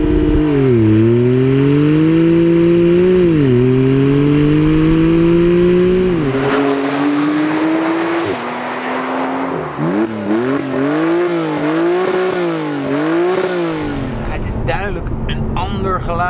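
Porsche 991.2 Carrera S from 2016 with a twin-turbo boxer six, revving loudly and close in repeated rising and falling sweeps, climbing higher toward the end before cutting off.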